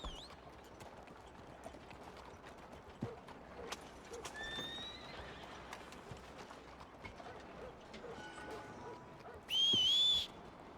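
A horse in the Red Dead Redemption 2 video game whinnies several times over scattered clip-clop hoofbeats, with a whistle and a short, loud burst near the end.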